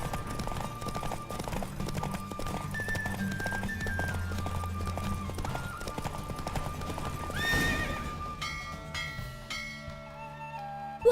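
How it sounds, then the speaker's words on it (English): Hooves clip-clop in a fast, steady gallop as a horse races in The Witcher 3, with a whinny and music, other game sounds layered on top, and bell-like tones near the end. "Don't spare the horse."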